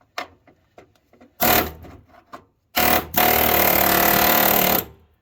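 A drill fitted with a dimple cutter bites into F-150 rocker panel sheet metal, first in a short, loud, gritty burst, then in a longer sustained grinding run of about two seconds, close by with faint tapping between.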